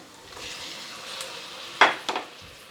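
Chopped tomatoes tipped into a pan of sautéed onions for prawn biryani, a soft low sizzle followed by two sharp clanks of a spoon against the pan while stirring.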